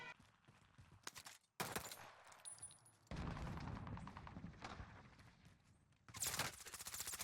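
Rifle shots crack out in Warzone Pacific with the Cold War and Vanguard sniper rifles, several loud separate reports spaced a second or two apart, some followed by a rolling echo and other gunfire.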